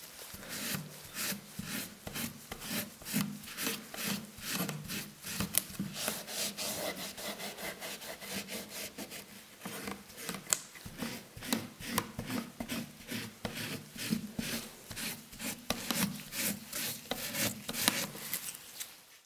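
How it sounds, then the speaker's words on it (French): Grade 0 steel wool rubbed by hand over thick stripped wood veneer, a close, rapid back-and-forth scratching with steady rhythmic strokes throughout, no talk. "des plaquages épais décapés avec une laine d'acier numéro 0"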